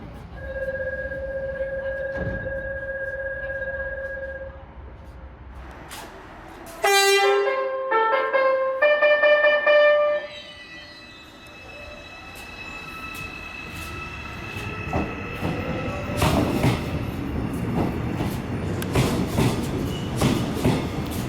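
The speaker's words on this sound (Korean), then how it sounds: "이제 열차가 출발할 시간이 되었습니다." A train pulls away from a temporary station platform, its horn blaring in a loud stack of tones before the low rumble and wheel noise of departure build and roll on.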